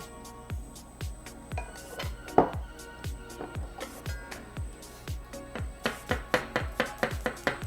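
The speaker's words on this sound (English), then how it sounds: "And this you want to fine chop." A knife finely chopping a garlic clove on a cutting board, a steady run of crisp, close taps about two per second that quicken toward the end.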